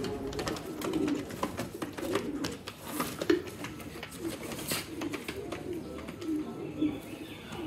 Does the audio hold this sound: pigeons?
yes